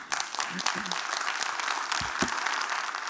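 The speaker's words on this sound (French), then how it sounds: "vraiment on les applaudit" Audience applause after a debate on the question of what life is, a dense, steady wash of clapping that fills the whole stretch, with a few brief low voice sounds mixed in.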